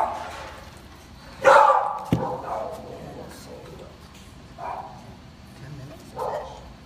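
Dogs in kennels give a loud bark or two near the start, followed by fainter yips and whines as a person talks nearby.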